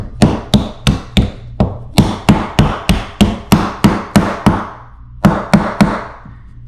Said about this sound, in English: Get yourself a small little mallet, ball peen hammer.